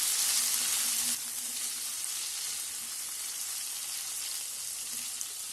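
Broccoli and peas cooking in a pan for pasta with coriander pesto, a steady close sizzle that is louder at first and then settles into a softer, even frying hiss.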